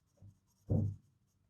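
Colored pencil blending sepia on paper, two short scratchy strokes, a light one followed by a firmer, longer one, close and quiet.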